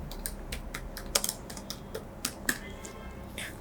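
Fingers type code on a computer keyboard, producing a quick, irregular patter of light clicks with a few louder keystrokes, close and quiet with no talking.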